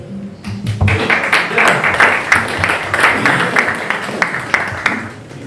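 Debate audience at a Big Debates event applauding, a dense, steady wash of many hands clapping throughout, fairly loud and close with no talk over it.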